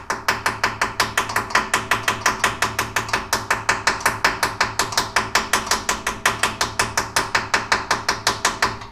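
A hammer taps repeatedly on parts of a Chinese-made tire machine, making a fast, even series of sharp metallic knocks that continue steadily and close at hand.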